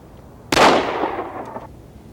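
A single revolver shot is fired at a target on a practice range. It is a sharp, loud crack with a short echoing decay, and no other sound surrounds it.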